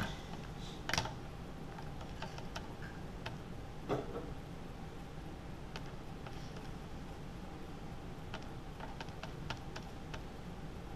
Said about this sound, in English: That's what I have to type into my calculator.